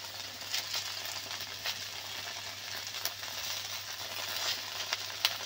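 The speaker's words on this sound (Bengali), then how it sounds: "মশলা দিয়ে আবার বেশ ভালো করে ভেজে নিয়েছি" Okra with salt and turmeric sizzles steadily in a pan, a soft continuous frying hiss with small pops and occasional stirring scrapes, heard alone without talk.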